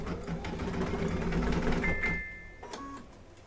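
An embroidery sewing machine stitches a quilt block, its steady whirring motor and rapid needle clatter running loud and continuous before easing off, with a few thin mechanical tones near the end.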